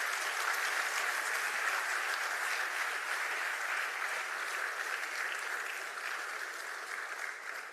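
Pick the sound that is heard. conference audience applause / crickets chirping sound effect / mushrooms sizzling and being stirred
conference audience applause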